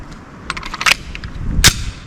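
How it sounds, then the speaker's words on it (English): A Colt 1911 pistol firing at a competition accuracy range, a couple of sharp cracks close by in quick succession over steady background noise. "I'm shooting the same piece of ammunition in both pistols."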